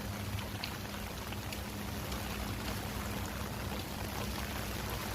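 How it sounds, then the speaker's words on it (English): Water poured onto a freshly transplanted plant in a garden makes a steady, soft splashing hiss that runs evenly throughout, fairly close and moderately quiet. "And then you water it."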